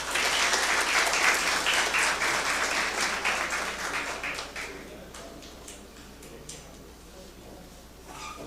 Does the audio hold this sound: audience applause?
yes